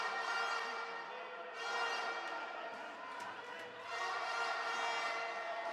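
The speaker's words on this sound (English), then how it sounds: "The cheer squad making the noise" Australian cheer squad chanting and shouting at a rugby match against Egypt, a steady, dense crowd roar that swells in waves, fairly distant and continuous throughout.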